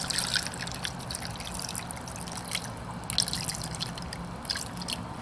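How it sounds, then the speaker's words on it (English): Water is poured onto rocks in a rock tumbler barrel during a 150/220 grit tumble, giving a continuous close trickling and dripping splash with no talking. "we're going to add water till it just comes up through the rocks"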